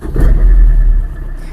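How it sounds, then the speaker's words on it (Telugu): A Maruti Swift Dzire diesel car engine cranks and catches, settling into a loud, low, steady idle rumble close by before easing slightly toward the end. "మీరు ఒకసారి ఇంజిన్ కూడా స్టార్ట్ చేసి చూపిస్తాను ఫ్రెండ్స్"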